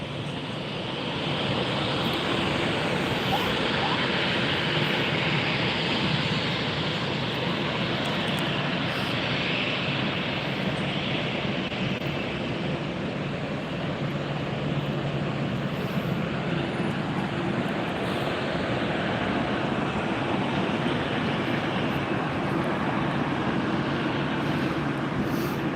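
A United airliner rolls for takeoff on Tampa's runway 1 right, its engines making a sustained, broad roar that holds steady at a distance for the whole stretch.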